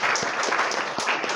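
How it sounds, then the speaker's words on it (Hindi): A ceremony for newly selected SSC GD candidates fills with loud, dense audience applause, many hands clapping continuously from nearby. "एक बार मेरे ख्याल से इन लोगों के लिए जोरदार ताली होना चाहिए।"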